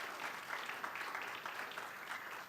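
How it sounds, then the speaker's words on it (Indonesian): Steady applause fills a church service, many hands clapping continuously at moderate distance with a dense, even texture and no voices over it. "Berikan tepuk tangan lagi bagi Tuhan Yesus."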